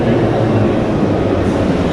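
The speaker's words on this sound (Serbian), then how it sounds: "kao što vidimo, voz ulazi u stanicu" A dense, loud rumble of a train rolling into a station in Tashkent, Uzbekistan, steady and close, with broadband roar and no clear voices.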